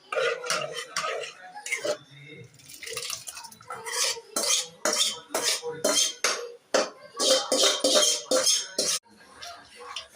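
Cooked lentils (dal) mashed in a metal pot for sambar, a series of repeated scraping and clattering strokes with a ladle against the pot, close and fairly loud, with no talking.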